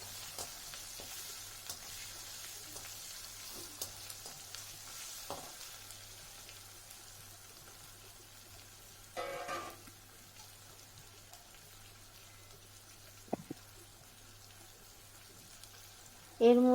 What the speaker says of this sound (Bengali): টমেটো কুচিটাকেও একটু ভেজে নেব।